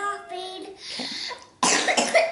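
A child coughs hard at close range, a loud burst of harsh coughs following a stretch of a voice.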